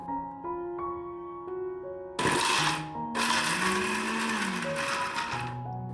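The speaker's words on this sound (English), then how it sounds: "Take all the ingredients into a mixing jar." An electric mixer grinder whirring as it blends ginger, garlic, coriander leaves and cashews into a paste, with a loud bursting grind starting midway and pitch shifts as the motor runs on.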